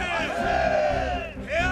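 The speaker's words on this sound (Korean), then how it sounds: "대한민국의 하늘엔 피 끓는 만세 소리가 울려 퍼졌다." Crowd shouting mansei cheers during the March 1st 1919 independence movement, a dense continuous roar of many voices with rising cries, loud and close, briefly dipping before swelling again.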